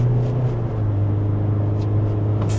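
GWM Haval H9 SUV engine accelerating at full throttle on the highway, a steady low droning rumble from inside the cabin, loud and continuous without a clear rise.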